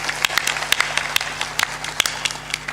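A satsang audience claps, a brief spread of sharp, uneven claps close by and repeating irregularly, with faint voices in the background.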